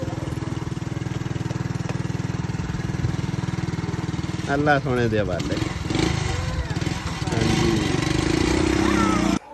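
A motorcycle engine runs steadily near the microphone as guests leave a home, with a rougher burst partway through while people talk over it.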